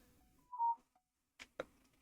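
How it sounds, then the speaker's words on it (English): A short electronic phone notification tone with a soft trailing blip, followed by two quick faint clicks in an otherwise quiet room, no talking. "I just got a notification"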